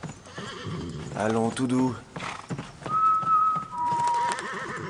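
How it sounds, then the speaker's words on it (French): A horse whinnies and snorts close by, with its hooves clip-clopping, while someone speaks to it in soothing French beneath the sounds. "T'es un bon cheval."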